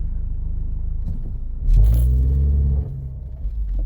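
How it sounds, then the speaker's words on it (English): A Ford Escape accelerating forward with a rough-feeling transmission, a low engine rumble swelling suddenly from inside the cabin, holding for about a second, then easing back to a steady drone. "I'm going to accelerate forward."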